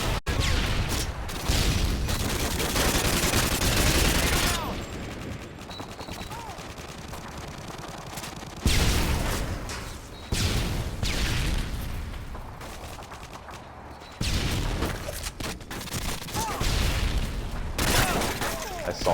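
AK rifle fire in Call of Duty: Modern Warfare 2 crackles in rapid bursts separated by short pauses, loud and close, with a player talking over some of the gameplay.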